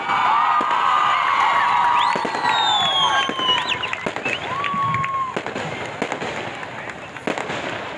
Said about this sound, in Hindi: ये आतिशबाजी का मुजाहरा किया जा रहा है इवेंट के अख्तिताम पर।